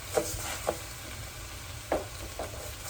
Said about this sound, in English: I'm going to start to fry the rice a little bit with this